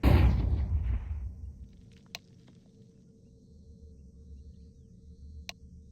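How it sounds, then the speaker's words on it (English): A flashbang grenade in Counter-Strike 2 detonates with a loud, sharp burst that fades over about a second into a faint lingering tone and low hum, with a couple of small distant clicks afterward. "Deploying flashbang."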